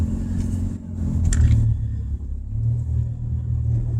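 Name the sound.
car engine rumbling while the speaker drives in traffic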